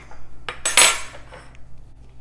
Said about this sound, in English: I'm gonna cut one open, butter it up, and let you know how good they are